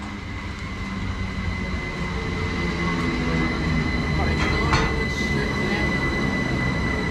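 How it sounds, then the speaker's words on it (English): A Great Western Railway class 387 electric train pulls into a station on the Didcot Parkway line, a steady rumbling roar with brief squeals of wheels and brakes midway, close by. "arriving in here is the 1501 Great Western Railway service to Didcot Parkway"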